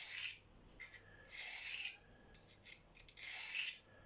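A knife blade is sharpened by hand on a handheld Venev diamond stone, working one side: repeated raspy scraping strokes in bursts of varying length, close and fairly quiet, with no talking.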